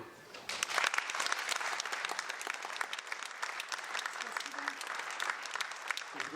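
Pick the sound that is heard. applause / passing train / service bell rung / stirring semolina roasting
applause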